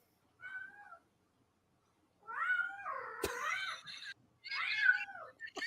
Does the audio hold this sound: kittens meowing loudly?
yes